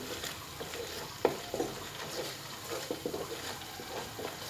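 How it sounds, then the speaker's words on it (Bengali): Paneer butter masala spice paste being stir-fried with sugar in a pan, a soft low sizzle punctuated by several light scraping and tapping stirs. "চিনিটা দিয়ে আরেকটু নাড়িয়ে নিচ্ছি"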